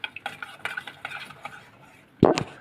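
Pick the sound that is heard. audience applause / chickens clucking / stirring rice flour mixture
stirring rice flour mixture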